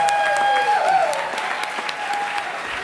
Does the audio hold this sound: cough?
no